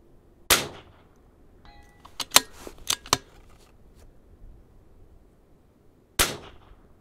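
Vudoo Gun Works V-22 rifle firing at a 200-yard range: one sharp, loud report, several quieter clanks and ticks, then a second sharp shot near the end.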